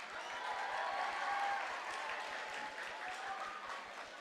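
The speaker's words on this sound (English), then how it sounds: "So let's give yourselves a round of applause." Youth conference audience applauding, a dense sustained clapping from a large crowd in a hall that stays loud throughout before easing slightly.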